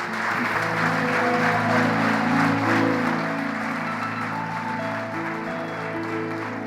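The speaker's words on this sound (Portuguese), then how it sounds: "Pode aplaudir o Senhor." A church congregation applauds at an Easter service, a steady wash of clapping that holds throughout, with sustained music tones running underneath.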